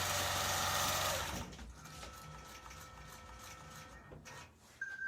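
A computerised longarm quilting machine stitches an edge-to-edge pattern with a loud rapid mechanical whir for about a second, then drops to quieter ticking and motor hum with a brief whine near the end.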